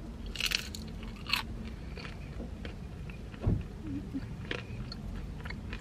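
Crunchy 7-Eleven mini tacos dipped in chili are bitten and chewed up close, giving a few sharp crisp crunches followed by steady chewing with no talking.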